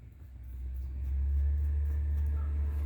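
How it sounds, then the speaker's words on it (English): Low, heavy engine rumble of a garbage truck passing outside, swelling steadily louder and holding close and loud, with no talk over it. "The trash truck's coming, so I'm going to pause it for a second."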